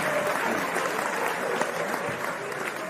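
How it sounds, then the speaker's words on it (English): Steady, dense applause from a studio audience on a podcast set, clapping continuously and at an even level for the whole stretch, with no break or voice standing out. "So let's clap it up."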